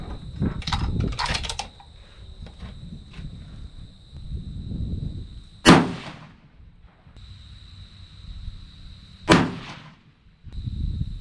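A 6.5 PRC rifle loaded with 57.1 grains of H1000 powder fires two sharp, loud shots a few seconds apart, with quieter handling clatter and rustling between them and a faint steady high tone behind.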